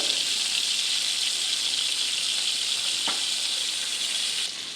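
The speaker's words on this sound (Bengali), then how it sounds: "চিংড়ি মাছগুলোকে আমি হালকা করে ভেজে নেব" Shrimp frying lightly in hot oil give a continuous, loud, hissing sizzle close up, with a brief stir or clink midway and the sizzle easing slightly at the end, no talking.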